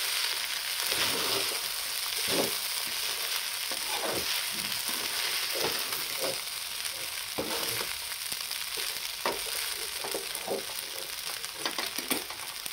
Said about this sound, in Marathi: आता आपण पूर्ण परतून घेऊया, म्हणजे सगळं मसाला मिक्स होईल.